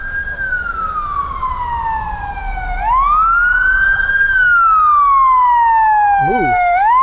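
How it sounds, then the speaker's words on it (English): A police car siren wails as it passes down a street, its sweeping tone falling, rising and swelling louder and closer over traffic noise, with a short burst of yelping near the end. "There's a siren coming down the street."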